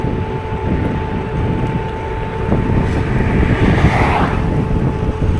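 Wind roars steadily past the rider of an electric scooter moving slowly through cold, icy weather, a continuous low rumbling buffet with a brief whooshing rise near the end; no one speaks.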